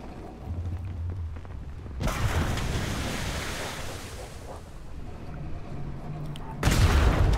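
Ship cannons in the naval game ATLAS fire in heavy broadband blasts, a big boom and later another, over constant wind and sea wash.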